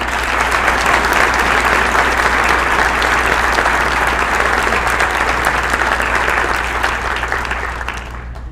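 A room full of guests at a community foundation awards breakfast applauds board members: dense, sustained clapping from many hands, loud and even for several seconds before gradually fading out, with no talk over it.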